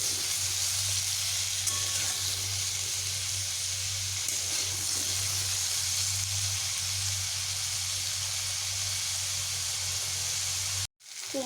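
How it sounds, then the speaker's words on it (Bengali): Pumpkin pieces fry with salt and turmeric in a pan, a steady broad sizzle and hiss running without a break, with no talk, until a sudden brief cut near the end. "আমি এগুলোকে কুমড়োগুলোকে বেশ ভালোভাবে ভেজে নেবো"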